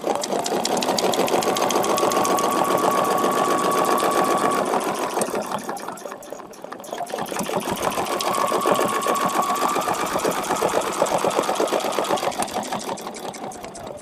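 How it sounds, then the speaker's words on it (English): A sewing machine stitches a feather leaf quilting design, a fast steady mechanical whir with rapid needle ticking, running for several seconds, easing off briefly in the middle and then resuming. "So I can now stitch from here all the way, stitch to here"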